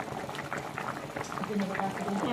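Curry gravy bubbles in a pot with a soft, continuous boiling sound while someone talks nearby.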